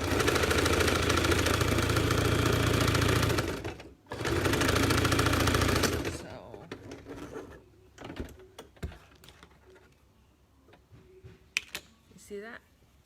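A sewing machine runs in two long, loud, steady stitching bursts while sewing down the folded edge of a fabric face mask. Scattered handling clicks and voices follow once it stops.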